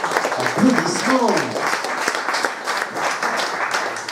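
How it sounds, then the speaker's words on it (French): Applause from a conference audience after a study presentation at the Ocpop 2017 colloquium, sustained clapping heard at a moderate distance, with voices and a brief higher vocal sound rising over it early on. "Applaudissements."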